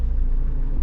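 A car idles low as it reverses slowly, a steady close rumble with no talking.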